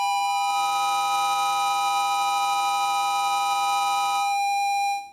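Stacked steady tones from a no-input mixing board's feedback oscillators form a slightly diminished chord, a sustained electronic drone that holds evenly, then thins to a single high tone before cutting off.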